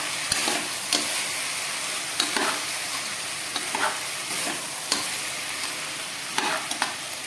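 Tomato pieces stirred into potatoes frying in a pan for veg biryani, giving a steady soft sizzle broken by repeated scraping stirs, close and moderately quiet.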